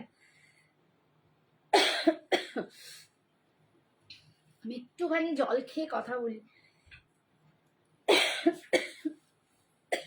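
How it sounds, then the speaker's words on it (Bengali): Harsh coughing from a woman, with a cluster of sharp bursts near the start and another strong fit near the end, close and loud, and a few spoken words in between. "প্রচন্ড কাশি"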